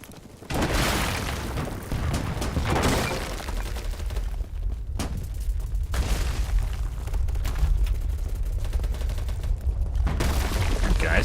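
Video game firefight with grenade explosions and gunfire: a loud, sustained roar of blasts and shots, with heavy booms around the start and at several points later, dense and continuous throughout.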